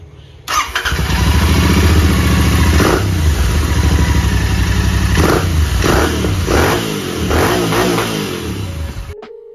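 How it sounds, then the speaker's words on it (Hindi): Royal Enfield GT650 twin fitted with a Red Rooster exhaust and dB killer, starting up and idling with a loud, close burble, then revving in several throaty blips before settling back to idle. "तो भाई ये फिट हो गए हैं, इसमें भी डीबी कलर लगा हुआ है, इसका आवाज़ सुन लेते हैं अब कैसी आ रही है।"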